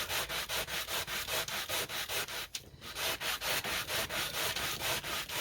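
Hand sanding of wood coated in Saltwash paint, a steady back-and-forth rasping rub repeated in an even rhythm, close and fairly loud, with one brief pause midway.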